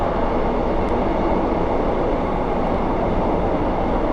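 Loud, constant rumbling roar from inside a Class 150 Sprinter diesel train braking on approach to a station, a dense mechanical hum and rush with no distinct clatter or squeal.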